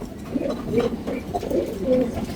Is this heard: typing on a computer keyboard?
no